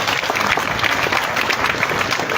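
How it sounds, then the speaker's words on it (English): Crowd at an outdoor certificate ceremony applauding seated parents, dense sustained hand clapping that fills the whole short stretch, loud and even with a faint murmur of voices beneath. "give them a thunderous hand clap"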